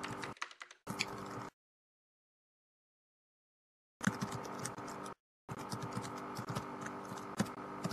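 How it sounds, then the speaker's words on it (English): Slow, uneven typing on a computer keyboard, a few scattered keystrokes, then a long silent gap before more steady clicking resumes, close and fairly quiet. "Because you can see how very slow my typing is."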